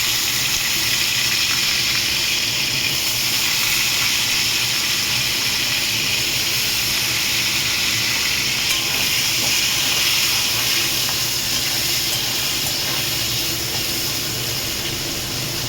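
Potatoes that were soaked in water are dropped into hot oil seasoned with five-spice and fry with a loud, steady, unbroken sizzle and hiss, close by, with no voices.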